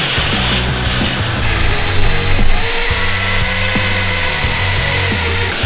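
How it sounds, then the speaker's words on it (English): A power drill bores a hole with a larger, stepped-up bit during a turbo manifold swap on a Honda Civic, a loud, steady whirring grind that runs throughout, surging briefly in the middle. "So we're just gonna step up the drill bit and hopefully it all works."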